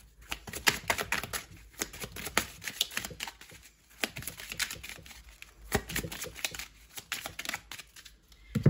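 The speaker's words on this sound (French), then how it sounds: "je vous retire une toute dernière petite carte pour voir" A deck of oracle cards is shuffled by hand, giving close, crisp riffling and flicking bursts in an uneven rhythm, with a card then drawn from it.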